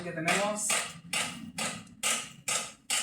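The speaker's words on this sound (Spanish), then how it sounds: "hay un chico martillando" Someone hammers with sharp, evenly spaced blows, about two per second, each clanging strike ringing briefly, set within a synthesized rap backing beat.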